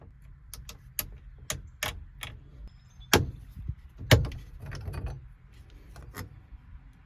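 Sharp metallic clicks and taps from a small screwdriver or pick prying out the steering column lock ring on a Jeep Wrangler YJ, irregular and close, with a few louder knocks in a quiet garage.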